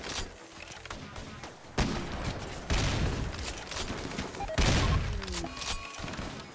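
Gunfire in the RimWorld video game: dense, overlapping bursts of shots and impacts that grow louder in waves, with a few sharp cracks standing out over a steady clatter.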